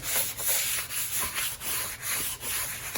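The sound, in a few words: wet sanding a scrap parts guitar body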